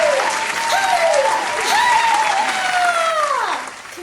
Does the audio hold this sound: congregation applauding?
yes